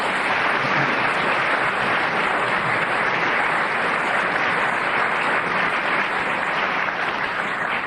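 Audience applause in a radio panel game studio, a steady, dense clapping that stays loud and even throughout, with no voices on top.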